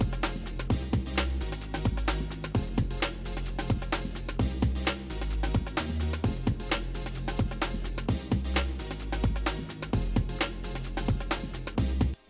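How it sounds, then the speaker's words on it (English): Iconic synth stab from a breakbeat production in Ableton Live, hitting repeatedly in rhythm over a dense, loud mix of breakbeat drums and a deep bass line, with no talking. "The third thing I added was this absolutely iconic synth stab that sounds like this."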